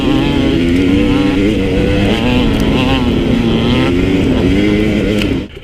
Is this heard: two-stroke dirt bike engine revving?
yes